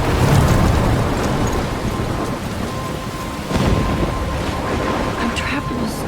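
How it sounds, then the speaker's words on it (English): Thunderstorm in the Life is Strange video game: steady heavy rain and wind with a low rumble of thunder swelling midway, loud and continuous. "I'm trapped in a storm?"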